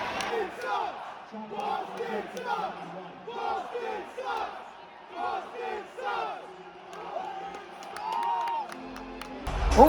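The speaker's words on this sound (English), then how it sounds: "Overall, I thought the crowd was pretty into it." An arena crowd at a Knicks versus Celtics basketball game at Madison Square Garden roars, shouts and cheers in surging waves, dense and continuous, with voices mixed throughout.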